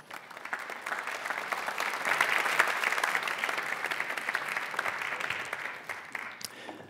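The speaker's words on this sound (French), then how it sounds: "Merci d'applaudir Pierre-Antoine Capton." An audience at a live interview event applauds with steady, moderate clapping that swells a little midway and thins out toward the end.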